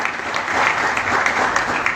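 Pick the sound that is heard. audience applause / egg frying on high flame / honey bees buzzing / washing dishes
audience applause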